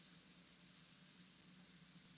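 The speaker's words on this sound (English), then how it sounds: "Now I'm going to spray it lighter." Airbrush spraying chocolate brown opaque paint while painting flames and firewood, a steady continuous hiss of fine spray held unbroken throughout, close and alone with no talk.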